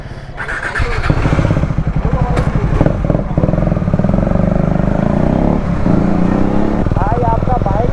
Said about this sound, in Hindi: भाई आपका बाइक कटाना के जैसा साउंड करता है, कटाना।